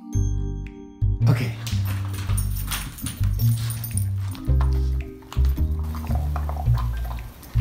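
A dog eats a snack with wet, uneven chewing and smacking sounds that come in bursts, close and fairly loud, while a voice speaks briefly.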